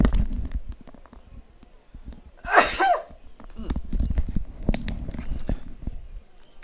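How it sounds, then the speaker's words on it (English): A single sharp human sneeze bursts out once, loud and close, amid quiet background sounds and low talk. "Let me sneeze."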